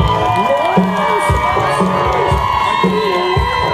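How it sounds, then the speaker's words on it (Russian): A crowd at a children's sports training event cheers and shouts, with lively voices and whoops over a dense, steady noise of people. "Ваши аплодисменты."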